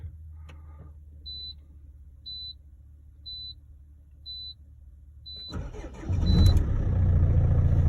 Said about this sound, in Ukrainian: І так само зараз перевіримо, чи заводить.